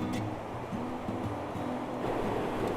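Steady broadband rush of water spilling down Rocky Falls, a clear blue-tinted waterfall in the Ozarks, continuous and fairly close with no talk over it.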